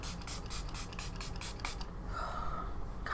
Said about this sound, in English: So I'm going to spray on a layer of the Make It Last setting spray first